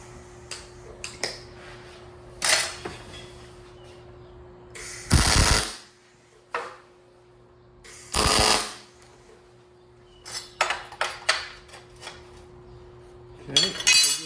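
Metal fabrication of a firewood bundling stand, with bursts of welding-type crackle lasting about a second each, separated by sharp metallic taps and clanks over a steady electrical hum, close by.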